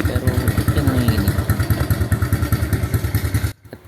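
A carbureted Honda XRM 125 motorcycle engine runs with a rapid, even thumping beat and rattling vibration as the bike shakes, loud and close, before cutting off abruptly near the end.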